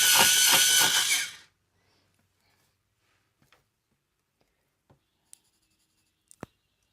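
An HB graphite pencil is sharpened in a quick burst of dense, rhythmic scraping that lasts about a second and a half. It then drops to near silence, broken by a few faint, scattered taps.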